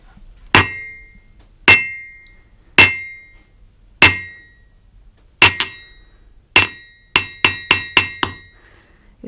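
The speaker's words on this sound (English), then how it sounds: "So I'll just hammer this on the anvil now." Ringing metallic hammer strikes on an anvil, six spaced blows that each ring out, then a quicker run of five lighter taps, close and loud.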